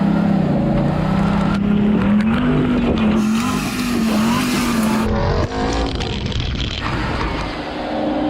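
Hummer H2 or Hennessey Mammoth in 4-wheel drive low, second gear, engine revving hard and loud off-road with a sustained droning roar that rises and dips, tires scrabbling and flinging rocks, no talking.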